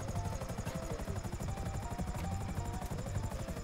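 A helicopter in the video game GTA V, apparently failing, thrums with a fast, steady rotor chop and constant engine whine, loud and continuous with no talking.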